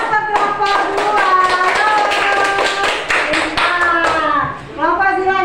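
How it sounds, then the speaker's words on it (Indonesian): Students in a classroom clap rhythmically for a group, a close, fairly loud run of hand claps with speaking voices and a tonal voice-like sound layered over it, fading briefly near the end. "tepuk tangan buat kelompok 2"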